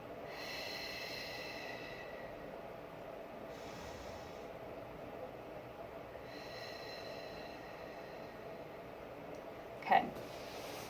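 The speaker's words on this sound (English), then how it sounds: "you want to inhale through your nose and exhale, pulling your stomach in." Slow, deliberate breathing exercise for COPD: a drawn-in breath through the nose and a long pursed-lip exhale, repeated with quiet pauses between, ending in a short sharp puff near the close.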